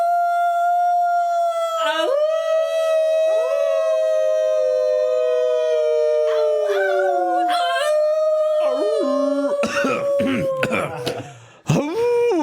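A person imitates a werewolf howl around a fire: a long, loud, wavering voiced howl that rises and falls, breaking into yips and strained cries near the end.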